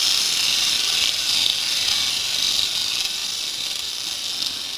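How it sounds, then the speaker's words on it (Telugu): Hot oil tempering sizzles over carrot chutney meant for sponge dosa, a loud, steady hiss that holds evenly for the whole stretch with no talking. "ఇప్పుడు దీన్ని పోపు వేసి"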